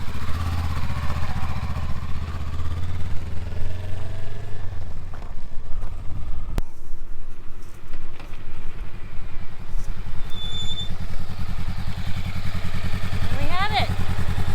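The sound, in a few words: Honda Rebel 500 motorcycle being ridden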